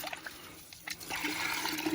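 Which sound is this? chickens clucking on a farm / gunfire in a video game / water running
water running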